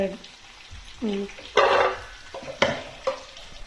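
A spoon stirs potatoes and turmeric in a pan, producing a few distinct scraping and clattering strokes over a soft background sizzle, close by with no talking.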